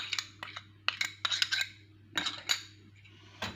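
A spoon stirs sugar and salt into a mushroom marinade, giving a series of light, sharp clinks and scrapes against a bowl in irregular bursts, close and fairly quiet over a steady low hum.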